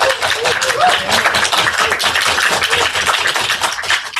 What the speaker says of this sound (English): let's give another warm round of applause to each of the teams